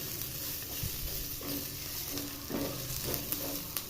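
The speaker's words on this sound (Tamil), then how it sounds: "இது போல் பிரித்து விட்டு சேர்த்துக்கோங்க, அப்போ தான் சீக்கிரமாக வதங்கும்." Sliced onions with tamarind frying in oil for a spicy Tamil onion chutney, a steady close sizzle broken by a few soft scrapes of stirring, with no voices.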